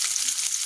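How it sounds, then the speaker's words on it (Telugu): Onions sizzling steadily in hot oil in a pan while cooking a spinach curry, a dense, close frying hiss with no break. "ఇప్పుడు ఉల్లిపాయలు వేసుకుందాం."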